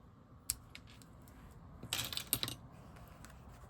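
Scissors snip paper tails trimmed from a stamped card, a few quick, close cuts clustered together after an isolated click, with no talking.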